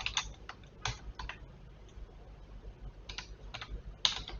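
Typing a command on a computer keyboard at a Windows command prompt, a handful of sparse, crisp key clicks in small clusters over a quiet background with no talking.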